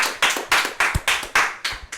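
Rhythmic clapping at an informal storytelling event, a few sharp, evenly spaced bursts about four per second from a small group, fairly close and alone without talk.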